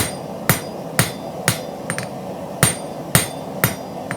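A blacksmith's hammer strikes hot round bar to forge a taper, sharp ringing blows landing about every half second, with a few lighter taps between, close and clear.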